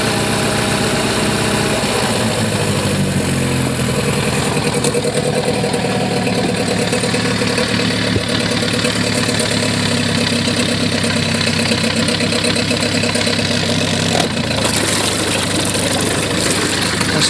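Mercury 9.9 hp outboard motor running at idle, a loud, steady, close engine rumble with a vibrating mechanical texture and a few brief shifts in tone as the gears are changed.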